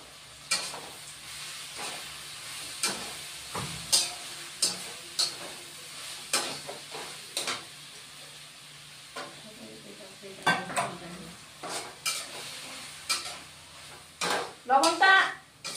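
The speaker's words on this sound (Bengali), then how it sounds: "এবার মশলাটা দিয়ে আবার একটু কষিয়ে নিব" A spiced potato and pea curry is stirred in a pan, with a spoon scraping and clattering against the metal in irregular bursts over a faint sizzle, the strokes close and sharp with short quiet gaps between them.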